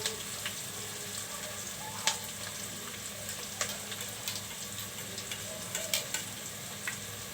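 Spices frying in a generous amount of hot oil in a pan, with bottle gourd cooking. A continuous soft sizzle and crackle is punctuated by occasional sharp clicks of a stirring spoon, close and moderately loud.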